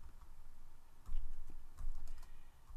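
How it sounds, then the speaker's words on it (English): Soft, quick keystrokes tap on a computer keyboard, a quiet, close run of irregular clicks with no talking. "And as you can see, I can type right into this space."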